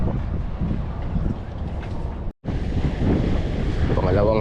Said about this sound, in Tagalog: Ang lakas kasi ng hangin eh, kaya gamit tayo ng mabigat na jig.